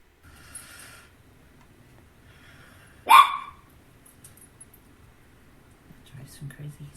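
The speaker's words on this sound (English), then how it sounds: "She's under the bed, barking at him." A dog under a bed lets out one sharp, loud bark midway, with quieter muffled sounds and low voices talking around it.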